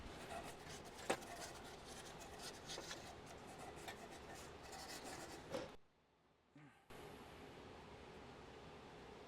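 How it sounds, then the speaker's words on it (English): Sandpaper rubbing a part of a John Deere D110 lawn mower deck gives a steady, close rasping scrape that runs continuously for several seconds, then breaks off into near silence before resuming. "I'm going to go ahead and sand this down a little bit"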